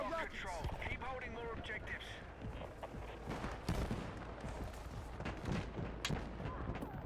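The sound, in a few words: gunfire from sniper shots in video game Battlefield 6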